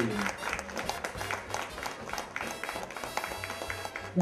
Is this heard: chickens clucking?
no